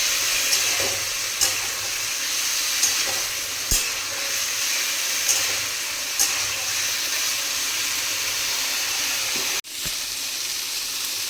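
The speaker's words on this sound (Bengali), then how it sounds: "এবার এটাকে হালকা করে ভেজে নেব, খুব বেশি লাল করে ভাজার প্রয়োজন নেই যেহেতু সিদ্ধ করা আছে।" Boiled bitter melon and potato pieces frying in a pan, a steady even sizzle throughout with occasional soft clicks of stirring and one sharp knock near the end, no voices.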